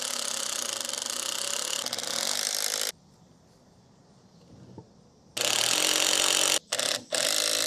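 A power screwdriver whirs in bursts as screws are driven into a wooden frame for a backyard chair, loud close runs broken by a quiet pause and brief stops near the end.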